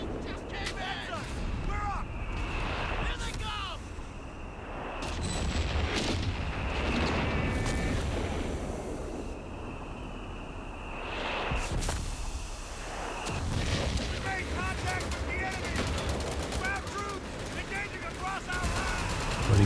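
Whiz-bang rocket artillery pounds away in Company of Heroes 3 during a 2v2 match, with repeated blasts, crackling gunfire and rumbling explosions layered under continuous commentary.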